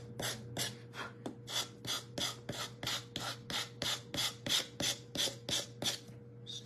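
A small Dollar Tree wooden bird house is sanded by hand with fairly coarse sandpaper, about eighteen steady rasping strokes in an even rhythm, close and fairly quiet over a low background hum.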